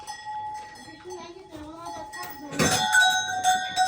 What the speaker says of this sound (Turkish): Ne gerek var yani bu kadar çan takmaya.